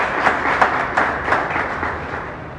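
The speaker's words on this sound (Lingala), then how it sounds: "Est-ce qu'on peut encore applaudir?" Audience applause at a community gathering, a brief burst of clapping with rhythmic peaks roughly every third of a second, fading slightly toward the end.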